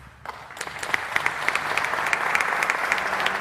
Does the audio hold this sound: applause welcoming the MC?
yes